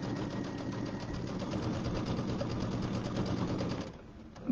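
A sewing machine runs steadily at moderate speed, stitching fabric over pins, with an even mechanical whir and needle chatter that stops near the end.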